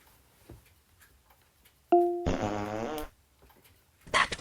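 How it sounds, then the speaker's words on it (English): Springy fart sound effect played by a smart speaker: a short tone blip, then a single loud buzzy, bouncing fart lasting about a second, close and alone in a quiet room. "Here comes a springy fart."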